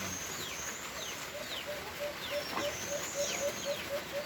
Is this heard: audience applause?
no